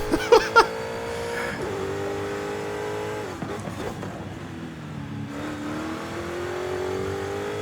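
A car engine revs and shifts through gears during a touge mountain race in Forza Horizon 5, rising and falling tones sustained across the run with a couple of sharp clicks at the start, no talking.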